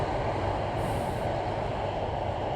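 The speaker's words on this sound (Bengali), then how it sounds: "সাইড দিয়ে ট্রেন যাইতেছে" A train runs alongside the road on the approach to the Padma Bridge, heard as a continuous loud rumble from a moving motorbike with no voices.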